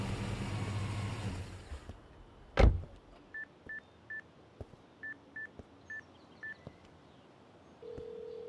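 Telephone keypad dialing tones from a phone in a car, a series of short evenly spaced beeps in small bursts after a sharp click, heard alone over a quiet low hum.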